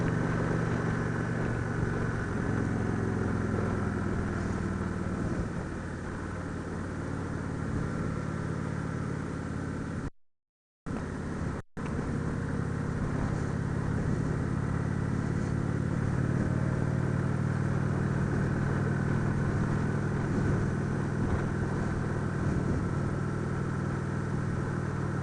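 A 2017 Indian Roadmaster touring motorcycle engine drones steadily during a demo ride, a constant close rumble mixed with road and wind noise and a brief dropout near the middle.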